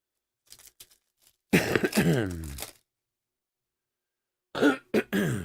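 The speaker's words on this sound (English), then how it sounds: "trying to clear my throat" A person clears their throat with a harsh, rasping cough-like burst, preceded by faint sounds and followed by more short coughs after a pause.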